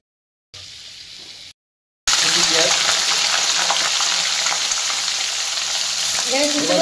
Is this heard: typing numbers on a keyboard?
no